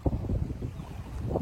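Strong wind blows over floodwater from heavy rains near the Edupayalu temple, making a close, roaring gust noise that buffets the microphone continuously for a brief moment, with no voices.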